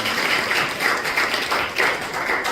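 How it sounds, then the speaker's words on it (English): An audience at a fundraising gala claps in a steady wash of applause, loud and sustained through the short stretch, with no voices over it. "Again, please give him a round of applause."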